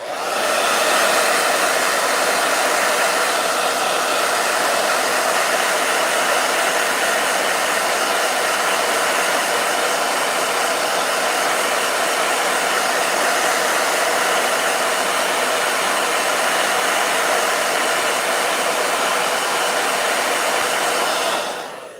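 A blow dryer runs continuously at close range, a loud, steady whooshing hum that holds unchanged from start to finish.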